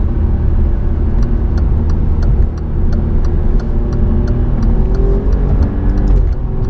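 A 2017 Alfa Romeo Giulia Quadrifoglio pulls hard in third gear onto a highway, its engine roaring loud and steady with a brief dip, heard from inside the cabin.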